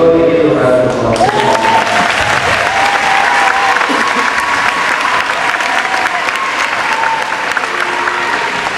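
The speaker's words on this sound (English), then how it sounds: "So we're going to give you a round of applause." A high school band's audience gives sustained loud applause, close and dense clapping that swells in after about a second and holds steadily to the end.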